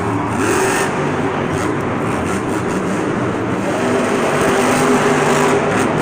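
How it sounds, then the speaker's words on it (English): A monster truck engine strains at Monster Jam in Houston in 2018, a loud, steady, continuous roar filling an arena with no break and no talking. "Yeah, that engine's straining a lot."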